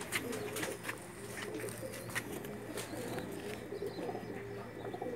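Fancy pigeons coo softly and repeatedly in the background, with a few scattered chirps, fairly faint and with no one speaking.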